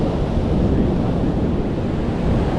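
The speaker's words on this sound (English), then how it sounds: "We've got the wind racing down the beach." Strong wind races down a long beach with surf breaking, making a constant loud roar of rushing air and crashing water with heavy microphone buffeting throughout.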